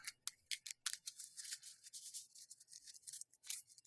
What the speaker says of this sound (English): continue to shuffle.